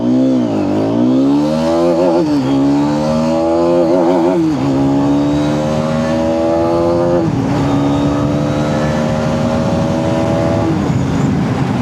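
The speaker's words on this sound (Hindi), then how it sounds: "कमेंट में बताना गाड़ी का एग्जॉस्ट नोट कैसा लगा।" A 2025 Hero Xtreme 250R motorcycle is ridden hard, its exhaust rising loudly through several gears with a drop in pitch at each upshift, steady and close throughout with no talk.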